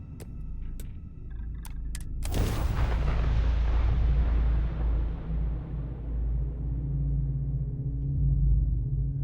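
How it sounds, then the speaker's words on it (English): Spaceship retro thrusters fire for a landing in the video game Starfield. A few short electronic beeps come first, then a sudden loud roar that holds as a heavy, sustained rumble. "Landing struts primed. Retros firing."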